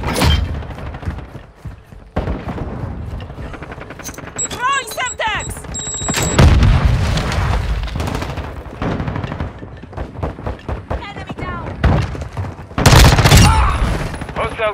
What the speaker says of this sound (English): Bastards! They're shooting at me!